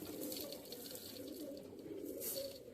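Several pet pigeons keep up a soft, overlapping burble of cooing, moderately quiet and continuous, with no speech.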